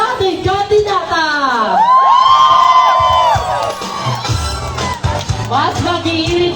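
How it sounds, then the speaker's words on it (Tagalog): A crowd at a company reunion talent show cheers, whoops and yells for a contestant, loud rising and falling shouts with high sustained screams close by, ending in mixed chatter. "mainit na sigawan sa ating kandidata!"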